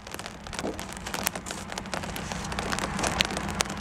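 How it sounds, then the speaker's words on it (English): Steady rain falls, a dense broadband hiss of drops striking a surface with scattered sharper taps, close and continuous throughout with no talk. "Because it's raining."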